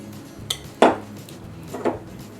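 Bananas for a banana cake being mashed in a bowl: a few separate clinks and scraping knocks of utensil against dish, spaced irregularly, close and moderately loud with no talking.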